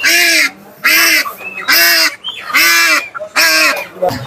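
Ducks at a market give loud, close, nasal honking quacks in about five repeated bursts, with short pauses between calls.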